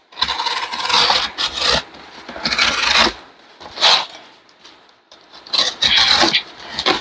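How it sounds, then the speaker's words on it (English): Sheetrock is cut in several harsh, scraping strokes, each lasting about half a second to a second, separated by short pauses, close and fairly loud with no talking. "Cutting sheetrock."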